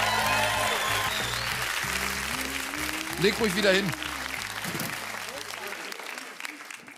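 Studio applause for Dirk on the ProSieben game show Balls – für Geld mach ich alles! carries on under a host's talking, then thins out and drops away near the end.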